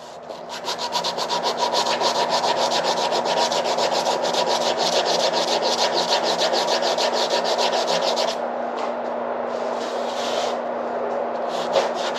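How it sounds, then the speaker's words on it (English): Tin foil scrubs steadily against rusty, deeply pitted metal coated with mystery oil, a close, continuous rasping rub with a rapid back-and-forth rhythm that goes on without a break. "I'm just sitting there scrubbing away on that"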